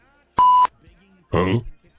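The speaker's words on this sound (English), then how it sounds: "definitely a better use of the beeping for sure, the beep machine" A single steady electronic beep from a beep machine, loud and close, followed by a brief burst of speech.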